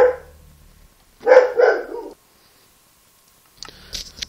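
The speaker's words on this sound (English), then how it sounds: "see what this dog's barking about right now" A dog barks indoors, a few separate barks in short clusters with quiet gaps between, fairly close and loud, with a brief higher yip near the end.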